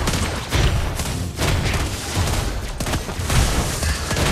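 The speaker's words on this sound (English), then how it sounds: "Your team destroyed a turret!" Turret destroyed during a team battle in a multiplayer video game, with a dense run of booms, thuds and gunfire-like blasts clattering continuously at steady loudness.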